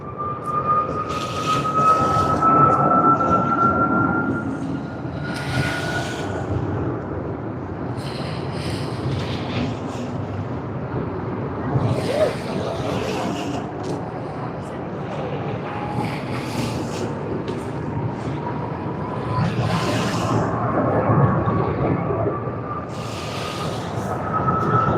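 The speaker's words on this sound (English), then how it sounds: "let's start with the first takeoff of the day" An Airbus A330 airliner takes off at Sydney Airport, its engines a sustained loud roar with a slowly rising whine, holding steady and close across the run with no voices.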